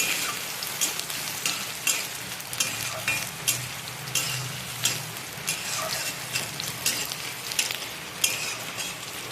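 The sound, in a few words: onions frying in a pan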